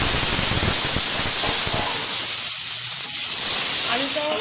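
Washed, cut potato pieces go into hot oil in a home kitchen pan, making a loud, steady frying hiss that runs throughout and eases slightly midway.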